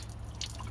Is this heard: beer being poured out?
yes